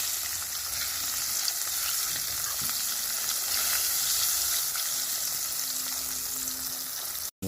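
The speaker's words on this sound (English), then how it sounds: "French fried tin mackerel" Tinned mackerel fries in a pan in Jamaican home cooking, giving a dense, continuous sizzle and crackle with light stirring, close and steady until an abrupt cut near the end.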